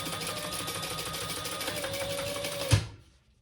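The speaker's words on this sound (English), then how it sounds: "I'm going to top stitch on the bottom piece this time" A sewing machine runs steadily, top stitching the bottom piece of a crossbody bag, a continuous mechanical whir for close to three seconds that ends with a brief thump as it stops, followed by quiet.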